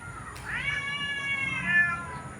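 A cat gives one clear, drawn-out meow close by in a backyard, rising then slowly falling, with no talk over it.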